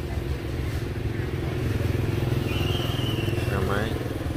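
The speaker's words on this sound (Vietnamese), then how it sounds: "Xe máy, xe mô tô," Heavy traffic of motorbikes and cars queued at the Phong Châu bridge over the Red River, a dense continuous engine rumble with passing motorcycle drone, heard under someone talking.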